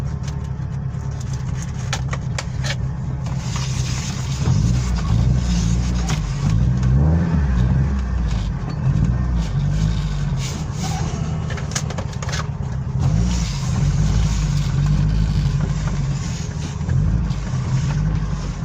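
An Opel Kadett idles with a steady low engine rumble. It swells now and then into light revs before settling back, heard up close and alone.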